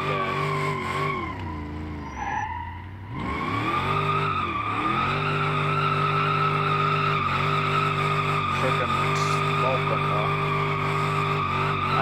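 In a BeamNG driving game, a drifting car sends out loud, continuous tire screeching layered over a revving engine whose pitch dips and climbs, the squeal sustained and close with no voices.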